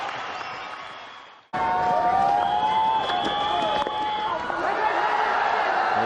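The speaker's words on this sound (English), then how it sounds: "So big cheer from the crowd." Crowd at a 1999 India vs Pakistan Sharjah Cup cricket match breaking into a big, loud, sustained cheer after a short dip. A commentator's voice and stadium noise run over the roar.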